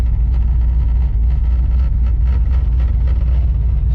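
A loud LS-swapped car engine drones close by while driving, a heavy, continuous low rumble with a faint rhythmic pulse and no voices over it.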